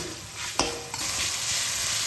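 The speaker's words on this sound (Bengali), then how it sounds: "মশলাটা খুব ভালোভাবে কষানো হয়ে গেছে" Spices being stir-fried with tomato in a pan sizzle softly and steadily, with a sharp scrape of the stirring utensil near the start and a lighter clink just after.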